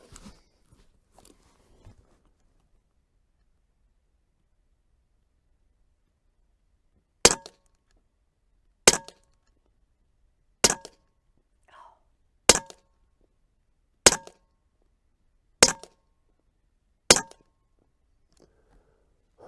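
A Huben .25 caliber air rifle fires seven sharp, crisp shots at roughly one-and-a-half-second intervals after a long quiet stretch, each a bright, close crack with a short metallic ring.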